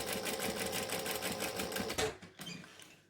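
A sewing machine stitches down a bag seam in a steady, rapid run of needle strokes that stops abruptly near the end, followed by a couple of faint handling knocks.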